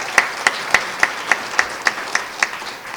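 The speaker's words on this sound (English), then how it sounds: "So give him another round of applause, please." A single pair of hands claps at a steady, even pace, about ten crisp claps close by, at an awards gala.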